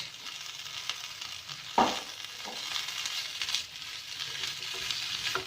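Spiced potato filling for kachori stirred in a hot pan, with a steady close sizzle and one sharp scrape or clank of the spoon against the pan partway through, no voices.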